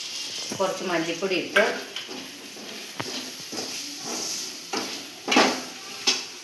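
Onions sizzle and fry in a pan as coriander powder is stirred in, with a steady hiss, scraping stirs and a few sharp clinks of a utensil against the pan.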